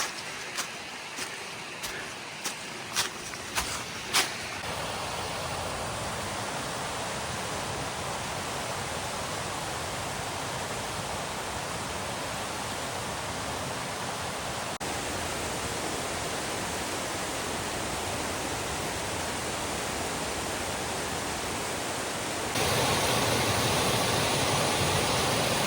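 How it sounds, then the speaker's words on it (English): Steady broadband roar of a waterfall along a kayak route through the Pennsylvania Grand Canyon, continuous and close, with a few brief knocks near the start and the rush growing louder near the end. "Usually I walk right up the waterfall"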